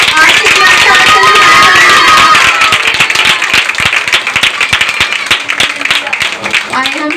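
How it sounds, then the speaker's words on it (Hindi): Loud, dense clapping from a crowd at a church revival meeting, fast and continuous, fading a little toward the end. Voices call out over the applause. "जोर से ताली बजाएंगे, ताली भी रुकनी चाहिए।"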